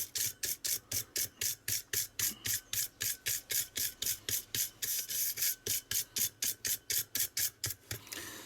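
A bristle brush scrubs an Acorn Electron home computer circuit board in quick, even strokes, giving a close, dry rasping rhythm of roughly three scratches per second that runs steadily throughout.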